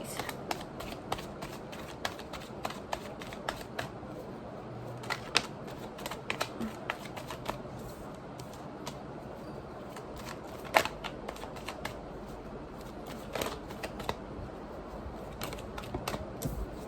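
Tarot cards are shuffled by hand during a card reading, making a long run of soft, quick riffling clicks and flicks, close and quiet. One sharper snap marks a card slipping out.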